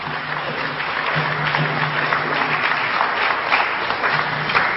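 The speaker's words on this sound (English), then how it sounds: "give his brother a round of applause" A lecture audience applauds warmly, steady sustained clapping from a crowd filling the room at an even level, with a faint low hum underneath.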